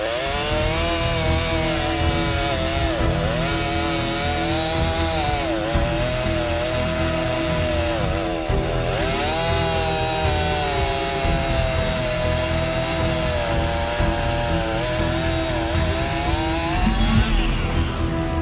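A Stihl chainsaw runs loud and steady at close range for about eighteen seconds while cutting through wood, with its engine pitch dipping and rising as the chain bites into the log.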